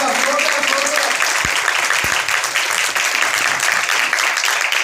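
A church congregation at a Sunday service claps in steady, loud applause that fills the whole stretch, with a faint voice briefly audible at the start.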